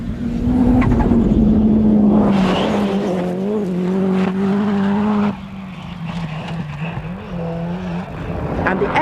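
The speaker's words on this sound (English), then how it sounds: "it's rallycross time as Austin McHale wrestles with that 700 horsepower Peugeot pony" 700-horsepower Peugeot rallycross car at a rally masters event, a loud close engine roar with shifting pitch, gear changes and tyre squeal, continuous throughout.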